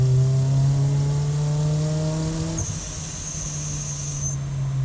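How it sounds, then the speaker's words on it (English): A supercharged 2011 Toyota Tacoma four-cylinder engine revs hard toward its 5,500 RPM redline, loud and close, with a steady harmonic drone and a high supercharger whine rising near the top. "just really pushing the limits of what a 4-cylinder can rev to"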